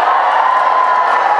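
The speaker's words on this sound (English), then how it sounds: "let's hear the cheer for Twitter" A large live crowd at a London book tour event cheers loudly and continuously, a dense sustained roar of voices.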